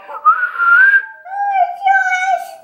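A person whistles a few wavering tones up close at the Jacksonville Fair, loud and clear, with short pauses between phrases.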